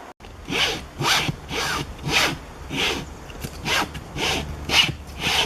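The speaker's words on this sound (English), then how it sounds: "Keep sawing." Steady back-and-forth rasping strokes of a hand saw, about six even pulls with a regular rhythm, close and fairly loud with no talking.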